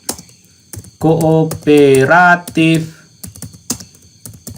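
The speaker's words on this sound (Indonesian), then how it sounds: "Berikutnya saya ketikkan di sini" Computer keyboard typing while working in Microsoft Word, sharp irregular key clicks and taps in quick bursts before and after a short stretch of someone speaking over them, close and clear.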